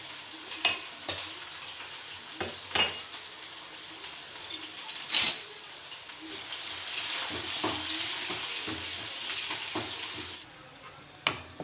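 Long-sliced onions and crushed garlic frying with cumin in a pan, a soft continuous sizzle with occasional clinks and scraping of a spoon, rising slightly in the middle before easing off.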